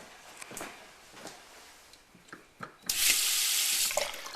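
Water gushes from a just-opened tap into a sink at a retreat cabin, a steady, fairly loud hiss that starts suddenly after a few seconds of quiet handling clicks and thumps.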